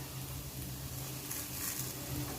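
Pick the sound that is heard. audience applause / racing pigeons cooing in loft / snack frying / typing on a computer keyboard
snack frying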